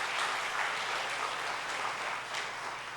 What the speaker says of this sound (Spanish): Dele un aplauso al Señor, porque Él se lo merece.